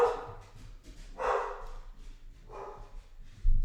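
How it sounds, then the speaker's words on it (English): A dog barking indoors in three separate bursts, moderately loud and slightly distant, over a quiet room. "oh, sorry about that, my dog is on a mission."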